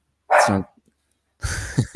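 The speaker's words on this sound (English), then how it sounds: "That's my dog." A dog barks close by in two loud bursts, the first a strong single bark and the second a rougher, noisier yelp cluster about a second later, with silence between.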